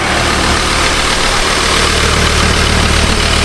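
A Ford Ranger Wildtrak with the 3.2 turbo engine idles after a head gasket repair, a close, even, low rumble that runs steadily throughout without knocks or other voices.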